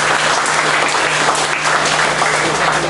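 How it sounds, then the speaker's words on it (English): A church congregation at a Baptist family camp breaks into loud, sustained applause, dense clapping close and continuous throughout. "Give them a big hand of applause."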